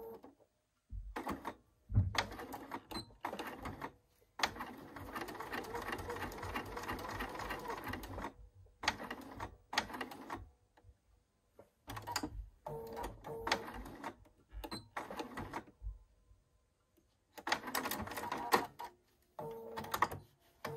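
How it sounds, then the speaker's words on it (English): A sewing machine stitches pants fabric in short bursts of rapid, close mechanical clatter, separated by pauses, with a few quiet handling sounds between runs. "you're going to sew from the fold to the two little dots that you have marked on either side"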